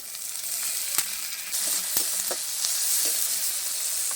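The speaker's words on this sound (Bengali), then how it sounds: "পেঁয়াজটা লাল লাল হয়ে গেছে। এবার এর মধ্যে দিয়ে দেব কেটে রাখা টমেটো," Chopped tomatoes fry with reddened onions in a pan, giving a steady close sizzle with a few sharp stirring clicks and scrapes, and no one talks.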